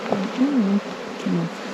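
Honey bees from a swarm buzz close by, the drone rising and falling in a few short swells.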